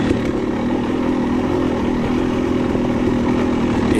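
A 2022 KTM 300 XC-W dirt bike runs close and loud with a steady, rough mid-pitched engine drone during a steep descent at a hare scramble, with no sharp revs and no talking.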